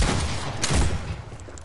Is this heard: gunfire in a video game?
yes